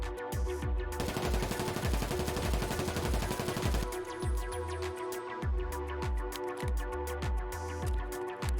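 An MK-47 rifle in Escape From Tarkov fires long full-auto bursts, each round a sharp, rapid crack in a fast, even rhythm, loud and close, with no talking.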